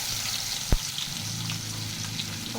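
Onion frying in a pan for a pea curry, a soft continuous sizzle heard close by with one sharp knock partway through.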